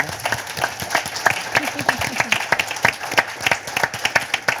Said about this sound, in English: Please give our panel a round of applause.